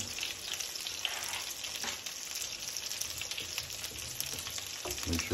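A tablespoon of butter melts in a pan for a chicken mushroom dish, making a soft, constant crackling sizzle that stays quiet and even throughout.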